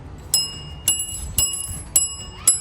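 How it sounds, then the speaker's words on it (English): A vintage bicycle bell rings five times at roughly half-second intervals, each strike a bright, close metallic ding with a lingering shimmer. "there are different kinds of bells for the vintage bicycles"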